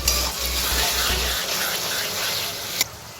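Chicken pieces with salt are stirred and fried in a pan, giving a loud, close, continuous sizzle mixed with wet scraping. A low hum runs underneath for the first second and a half, and one sharp clink is heard near the end.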